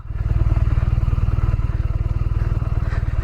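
A 2021 BMW R nineT motorcycle doing slow U-turns, its engine pulsing at a low, steady idle-like rhythm close by, with light clatter over the throbbing exhaust.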